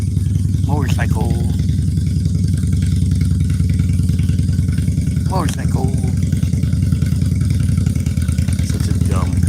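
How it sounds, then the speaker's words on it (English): A motorcycle engine drones loudly and steadily close by, with a constant low harmonic hum and a few brief higher chirps over it. "Motorcycle."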